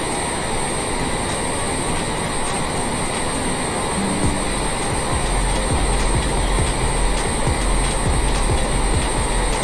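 A Honda Jet takes off in a flight simulator game, its engines giving a steady, dense roar that holds at one level throughout, with a low rumble building as the run goes on.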